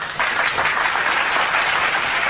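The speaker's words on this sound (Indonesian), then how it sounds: "tepuk tangan untuk Bang Suma." An audience at an Indonesian religious lecture breaks into thick, continuous applause that holds at a steady, fairly loud level throughout.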